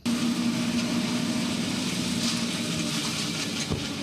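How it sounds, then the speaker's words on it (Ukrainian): A tractor engine drones steadily while mowing grass in a field, a loud close continuous rumble with a faint tonal hum and a brief thump near the end; no voices. "За кермом трактора Вадим косить траву з самого ранку"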